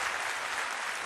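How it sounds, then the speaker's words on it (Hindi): Audience clapping loudly and steadily throughout a morning session of a talk, a dense unbroken wash of hands with no voices over it. "ताली बजाएं।"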